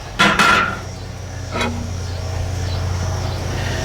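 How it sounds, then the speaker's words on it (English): Metal grill grates are lifted off a grill while cooking a spatchcock chicken, giving two close clanks with a brief metallic ring, then a lighter knock over a steady low hum. "Then I'm gonna grab my grill grates, take them off."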